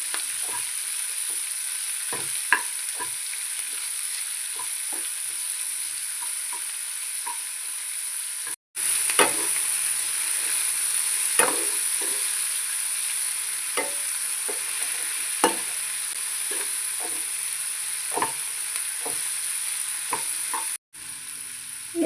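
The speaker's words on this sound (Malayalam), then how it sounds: "സവാള ഒന്ന് വാടുന്നത് വരെ നന്നായിട്ടൊന്ന് വഴറ്റി കൊടുക്കാം." Sliced onions with salt sauté in a pan for an onion curry, a soft steady sizzle broken by scattered clicks and scrapes of a spoon stirring, with no voices.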